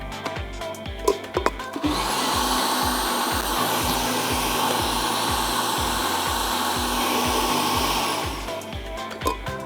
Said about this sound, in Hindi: Just blend this together.